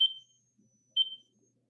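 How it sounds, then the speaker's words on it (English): A kitchen timer being set while baking a cake sounds two short, high electronic beeps about a second apart in an otherwise quiet room. "we're going to set that timer again so that I don't forget about it."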